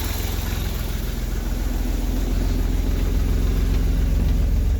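A cold-started Austin Healey 3000 six-cylinder engine idles steadily, a close, rumbling, even throb that grows slightly louder and smoother, heard alone.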